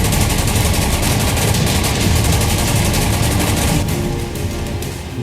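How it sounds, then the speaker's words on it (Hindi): Sustained gunfire along the India-Pakistan border during ceasefire violations, a dense, continuous crackle of rapid shots and bursts with no pauses, loud and steady throughout and easing slightly toward the end. "भारत पाकिस्तान सीमा पर चल रही हैं गोलियां"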